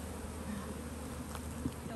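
Honeybees swarm and buzz around a beehive colony at a bee sanctuary, a dense, steady drone close by with no voices over it.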